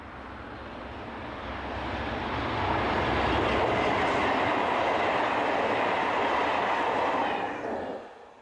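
An electric locomotive, a development of the BB9200 series, hauls a train near Toulouse, a steady rolling rumble that swells as it passes close by and holds loud for several seconds before tailing off at the end.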